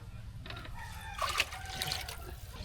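Water is poured into a cooking pot to boil Haitian pitimi (millet), producing a soft splashing, gurgling stream that swells in the middle, fairly faint against a quiet kitchen background.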